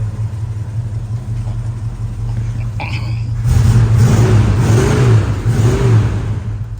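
A 1966 Ford Mustang with about 33,000 miles idles with a low steady rumble, then revs up in three rising and falling surges before settling back, close and loud.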